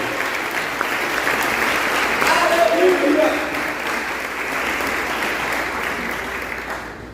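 A church congregation applauds steadily through a sermon, a dense wash of clapping that swells and holds loud, with a voice shouting over it.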